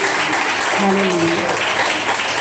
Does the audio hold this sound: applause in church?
yes